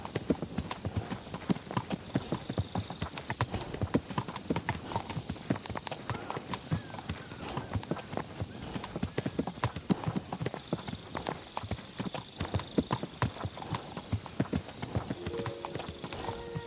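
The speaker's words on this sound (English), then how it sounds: "My God, that looks like a bloody expensive horse." An expensive-looking horse in Kingdom Come Deliverance 2 walks with steady, rhythmic clip-clopping hooves, close and continuous for the whole stretch, with no talk over it.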